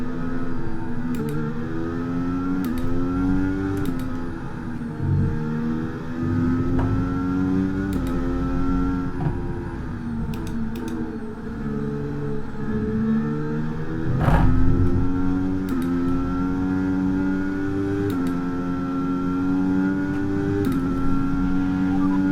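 An F1 car engine in the F1 23 video game runs under a virtual safety car at the Australian Grand Prix, a steady, moderately loud whine rising and falling through repeated gear shifts with brief sharp clicks.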